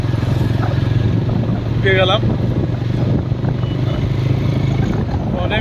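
A motorbike rides along a road at night in light rain, its engine droning steadily beneath wind noise, while a voice speaks over it.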